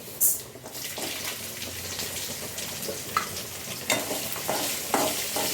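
Dried and green chillies, urad dal, cumin, fenugreek and coriander seeds frying in oil: a steady close sizzle with intermittent spatula scrapes and taps against the pan.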